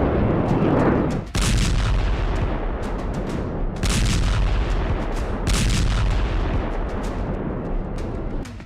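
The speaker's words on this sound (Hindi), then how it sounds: "इसी बम गोलों से बेरूत में नॉन स्टॉप धमाके हो रहे हैं।" Loud, continuous barrage of bomb explosions and heavy blasts in Beirut during an Israeli airstrike attack on Lebanon, with dense rumbling booms and sharp bursts overlapping throughout.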